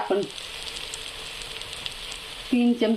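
Red chilli masala sizzles steadily in hot oil, with a continuous, fairly close frying hiss that runs throughout. Brief bursts of talk come at the start and the end.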